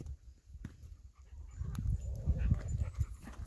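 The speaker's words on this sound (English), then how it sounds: "He's a pretty dog." A dog panting close by, quick rhythmic breaths with soft snuffling, growing slightly louder toward the end, with no talking.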